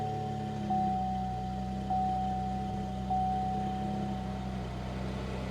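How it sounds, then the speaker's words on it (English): A rough-running engine of a Dodge Magnum with 113,000 miles idles steadily with a low, slightly uneven rumble, while a faint high electronic tone beeps three times at regular intervals in the background. "Engine is a little rough."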